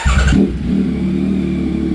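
Custom 2024 Yamaha XSR 900 motorcycle fitted with an Austin Racing exhaust revs hard and close, a loud brief blip that drops back into a steady deep idle rumble, with no voices.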